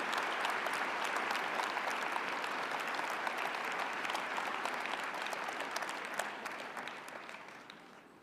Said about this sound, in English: Give these 2 men a round of applause.